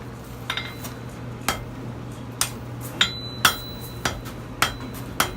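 Hammer blows on hot steel at a forge, tapering a bar for a wall hook: about ten sharp, ringing metallic strikes at a steady, unhurried pace, fairly close, over a low constant hum.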